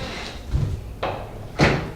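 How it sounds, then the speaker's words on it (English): A door swings open and shut indoors, with three separate close thumps and knocks spaced about half a second apart, fairly near and moderately loud, and no talking. "keep playing with the door"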